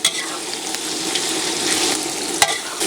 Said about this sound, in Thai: ดูไปทีละขั้นตอนนะผัดไปเรื่อยๆนะ ใส่หมูลงไปเลยจ้า